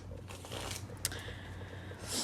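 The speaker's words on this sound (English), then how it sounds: "Let me shuffle this one real quick" A Tarot card deck being shuffled, quiet soft riffling and sliding of cards with a brief sharp snap near the middle, faint against a low steady hum, no talking.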